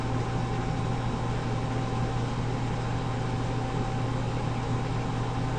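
Agitator motor in an industrial tank running steadily while mixing and heating fluid, a constant even hum and whir with a faint tonal whine, unchanging throughout.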